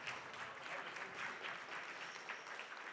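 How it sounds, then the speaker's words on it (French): Applause from a conference audience after a talk on renewable electric energy in France, a steady, fairly dense spread of clapping that stays even throughout and sounds quiet and distant. "On peut applaudir."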